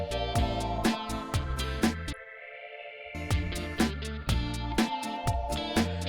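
A stock Logic Pro X synth patch plays in the intro of a song alongside punchy drums and layered chords, with a brief drop to sparse upper tones before the full mix returns, loud and without talking.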